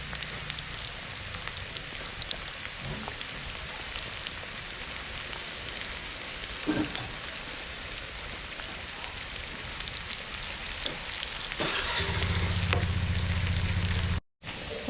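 An onion fries in ghee in a pan with a steady, close sizzle and crackle, a few soft stirring knocks, and the frying grows louder near the end.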